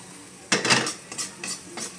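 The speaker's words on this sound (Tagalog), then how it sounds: "Medyo halu-haluin lang ho at paikot-ikutin ang kawali." A spoon stirs food in a frying pan while the pan is swirled, producing clattering metallic scrapes and clinks in several short bursts. The sounds are close and loud, with a faint sizzle underneath.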